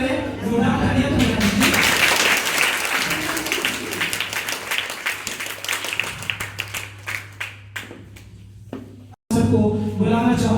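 Applause fills a parent-teacher meeting, broad and sustained at first, then thinning into scattered claps before a brief cut and a fresh burst, with a low steady hum underneath.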